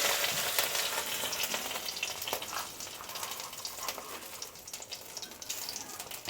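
Panch phoron spices fry with a bay leaf and dried red chilies in a spoonful of oil, a steady, close crackling sizzle that holds evenly throughout and eases slightly toward the end.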